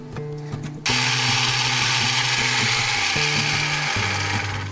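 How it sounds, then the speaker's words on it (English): A kitchen blender whirs loudly through a fruit smoothie after a few clicks of setup, a steady dense roar with slight changes in motor pitch, close and continuous with no talking. "And all we're gonna do now is blend."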